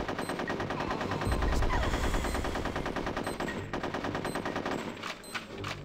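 Sustained rapid machine-gun fire with heavy gunshots in Conker's Bad Fur Day, loud and dense throughout, forming a continuous rattling barrage with no talk.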